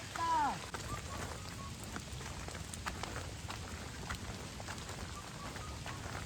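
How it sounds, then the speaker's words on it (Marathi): Rain falls steadily through a hillside forest, a soft even patter close to the microphone with faint distant rumbles and no voices over it. "पाऊस चालूच आहे मित्रांनो"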